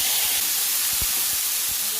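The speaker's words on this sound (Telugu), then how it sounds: "ఇప్పుడు టమాటా వేసుకోవాలండి." Tomatoes tipped into hot oil already holding green chillies, garlic and cumin for a spicy tomato chutney, giving a steady, close, even sizzling hiss throughout with no voices.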